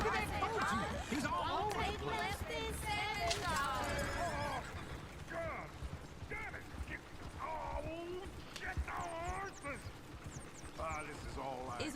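Horses in the Western video game Red Dead Redemption whinny repeatedly over clopping hooves, with voices talking throughout in a busy game scene.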